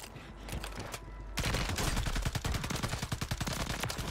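Rapid bursts of gunfire from a weapon in a video game, dense and loud, with a sharp onset after a quieter first second and a fast rattling rhythm continuing to the end.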